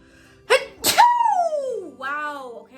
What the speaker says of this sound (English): Do I have to sneeze?